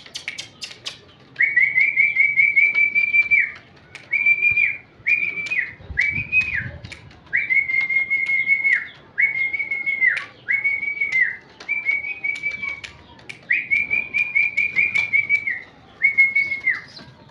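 A person whistles repeatedly to call a pigeon onto an outstretched hand, giving a series of clear, steady mid-pitched whistles in short bursts with brief pauses between them, close and loud, with no talking.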